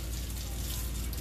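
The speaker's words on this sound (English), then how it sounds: "Water running in the sink" Water runs steadily from a sink tap, a continuous close hiss and splash with no talking.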